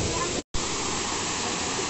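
Rampa waterfall, running low on water, pours as a steady broadband rush of falling water, continuous and fairly loud, with one brief cut to silence near the start.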